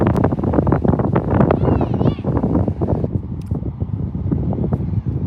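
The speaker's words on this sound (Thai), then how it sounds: "แต่ว่าลมแรงอยู่นะ ดูใบไม้" Strong wind buffets the microphone outdoors in Finland, a steady loud rumble with gusty swells throughout, under near constant conversational talk.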